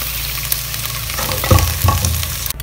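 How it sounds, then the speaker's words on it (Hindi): Okra (bhindi) fries in oil in a pan over a medium flame, making a loud, steady, close sizzle with a couple of brief stirring bumps. No voices are heard. "मीडियम फ्लेम पर आपने भिंडी को 3 से 4 मिनट तक फ्राई करना है।"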